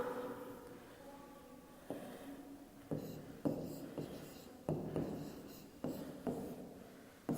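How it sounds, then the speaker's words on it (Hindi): A teacher writes on a classroom board, chalk or marker tapping and scraping in short irregular strokes, each stroke a sharp little knock followed by a brief scratch, faint and close with no voices. "यहाँ पे लिखती हूँ मैं इसे"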